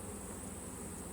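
Honey bees crowding a packed hive frame make a steady, dense buzzing hum, faint and continuous throughout, with no voices.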